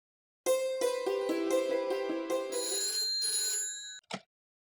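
A phone ringtone plays a bright electronic melody of repeated chiming notes, loud and close, followed by a brief click as it stops.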